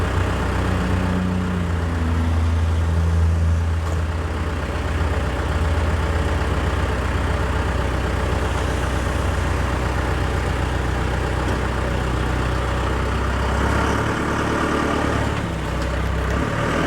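A 1991 Ford F250 pickup sits in park with its engine idling nearby, a steady low rumble that holds constant for the whole stretch with no talking.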